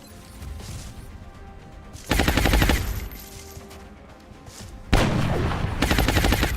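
Gunfire aimed at a mech in the video game XCOM, two loud bursts of rapid automatic shots, each lasting over a second, separated by a quieter pause, close and with no voices.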